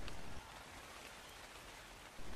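Rain falls in the video game Ark Survival, a steady, even hiss of drops spread across the whole clip, fairly soft and with no voices over it.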